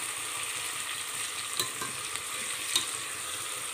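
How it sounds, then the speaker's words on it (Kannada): Chopped onions frying slowly in oil for chicken palav, a steady soft sizzle with two brief sharper crackles, close and even throughout. "ಸ್ವಲ್ಪ ನಿಧಾನಕ್ಕೆ ಫ್ರೈ ಮಾಡಬೇಕು ಈರುಳ್ಳಿ ಮಾತ್ರ."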